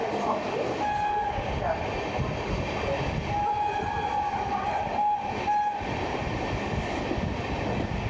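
Riding aboard the Gangasagar Express with new LHB coaches as it runs through a station between Sealdah and Bandel, a steady close rumble of wheels and carriage noise carries sustained horn tones over it.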